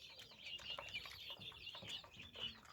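Small quail chirp and call from a home aviary, with short bright trilling notes repeating in quick succession, close and fairly clear over faint background rustle.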